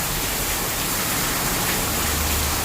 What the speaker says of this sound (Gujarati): ચાલો જો કેટલો ફૂલ વરસાદ આવે છે